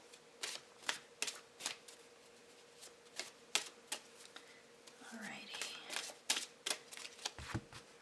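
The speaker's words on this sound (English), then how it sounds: "I'm going to go ahead and also reshuffle our clarifying cards." Tarot cards shuffled by hand at close range, a series of brisk riffling bursts in a quiet room with a short pause and some soft handling noise between them.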